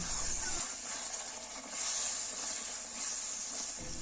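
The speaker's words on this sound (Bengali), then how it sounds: "এবার সামান্য জল দিয়ে আরও কিছুক্ষণ কষিয়ে নিচ্ছে" Tomatoes simmer in a pan after a splash of water is added for a village-style tomato and date chutney, giving a continuous close hiss of steam that swells and eases slightly over a few seconds, with no voices.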